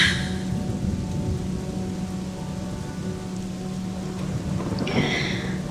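Steady heavy rain pours throughout, a dense continuous hiss with a low rumble underneath and a brief brighter splash near the end.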